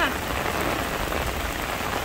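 Heavy rain pours steadily onto surfaces, a dense, continuous hiss and patter that fills the whole scene without a break, loud and close.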